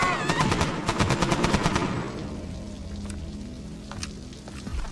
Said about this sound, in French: Les coups de feu venaient de par là.